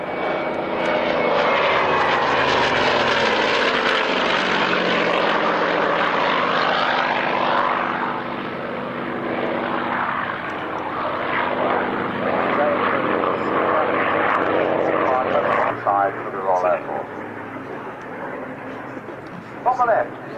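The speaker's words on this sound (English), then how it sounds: "From the left, Mark 9 Spit, ME-109." A Spitfire Mark 9 and an ME-109 propeller fighter pass at an airshow. Their engines roar loudly at first, then drone more distantly as they fly away, with occasional crowd and announcer talk underneath.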